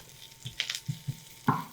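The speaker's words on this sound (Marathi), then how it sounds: "आता ठेचून घेतलेलं लसूण आणि लसूण हलका सोनेरी रंगावर भाजून घेऊ" Quiet sizzling of crushed garlic frying in oil until lightly golden, with a few soft taps and clatters of a utensil against the pan.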